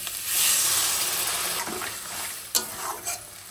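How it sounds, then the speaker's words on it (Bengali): Fried sea crab and potatoes tossed into spice paste sizzle and hiss as they are stirred, with a loud frying burst at first and then scraping stirs and a couple of sharp knocks. "এবার দিয়ে দেবো ভেজে রাখা কাঁকড়া আর আলু। মশলার সঙ্গে একটু কষিয়ে নেব।"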